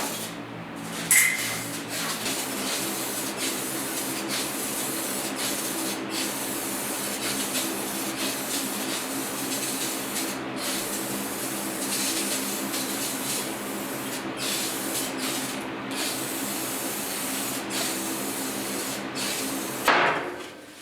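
Spray paint cans coating the inside of a welded metal kitchen corner shelf, a steady close hiss running almost unbroken for about twenty seconds with a few brief pauses and some clatter near the start and end.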